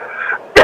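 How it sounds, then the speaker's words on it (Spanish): A single short, harsh cough from a man, loud and close, bursting out abruptly after a brief stretch of voiced sound. "ya me dio tos de la indignación"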